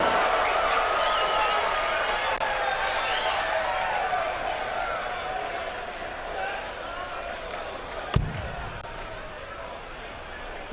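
Darts crowd at the 2016 BDO World Darts Championship final roaring after a woman player's maximum 180, a steady loud cheer sustained throughout with a sharp thud near the end.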